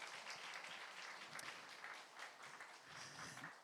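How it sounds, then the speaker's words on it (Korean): A church youth congregation applauds members finishing a discipleship training course, a dense, even wash of many hands clapping, heard faint and at a distance. "다시 한번 큰 박수로 여러분 격려해 주셨으면 좋겠습니다"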